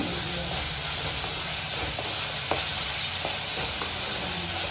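Steady frying and roasting sizzle in a pan, dense and continuous with faint clinks of stirring, close and moderately loud with no talk.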